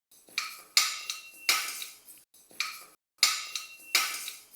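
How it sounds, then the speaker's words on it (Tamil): Moong dal, 100 grams, dry-roasting in a heated non-stick pan over medium flame, with a spoon scraping and stirring in five or six distinct close strokes and brief pauses between them. "இப்போ இந்த 100 கிராம் பாசிப்பருப்பு இதில் போட்டு நல்லா வறுக்கணும்"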